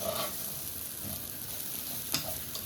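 Rice with toasted vermicelli being stirred in a pot, a quiet continuous sizzle with soft scraping and a few brief clinks of the spoon against the pot.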